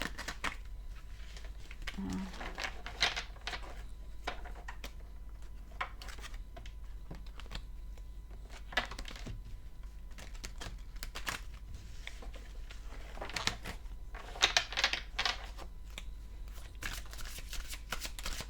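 Tarot cards are shuffled by hand at close range in repeated bursts of crisp riffling and shuffling, with quiet pauses between them and no talking.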